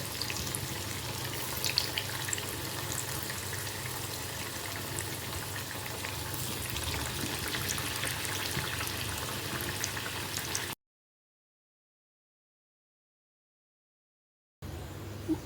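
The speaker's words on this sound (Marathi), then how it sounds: "आता आपण तळून घेऊया वडे. मस्तपैकी तेल तापलं." Coriander vadi frying in hot oil, a dense continuous sizzle and crackle held steady for about ten seconds, then silence before the sizzling briefly returns.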